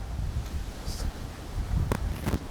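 Strong gusts of wind buffet the microphone outdoors on a golf course, a rough continuous rumble with a couple of faint sharp sounds.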